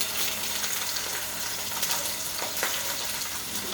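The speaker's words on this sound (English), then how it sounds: "our oil is all hot, so we're just going to steep them into the pot" Sprat fish sizzling steadily in hot oil seasoned with garlic, ginger and pepper in a pot, a close, continuous crackling fry with small pops and no talking.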